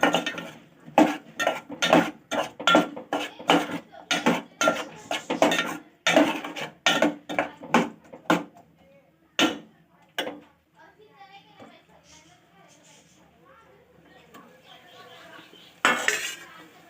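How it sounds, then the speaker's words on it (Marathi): A spoon scrapes and clinks rhythmically against a pan while mixing a spiny gourd (kartoli) vegetable stir-fry, a steady run of sharp strokes that slows and fades into a few scattered taps. "नंतर चमच्याने मिक्स करून घ्यायची मटेरियलमध्ये"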